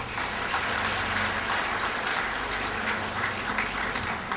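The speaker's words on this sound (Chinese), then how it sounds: "我们为举手的人拍手一下好吗？" An indoor audience at a church talk claps together, a dense, even patter of many hands sustained at moderate distance for several seconds without voices.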